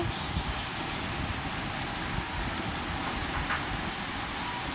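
Steady rain falls on an urban street outside a building during a power cut, a constant dense wash of drops with faint traffic underneath, no voices.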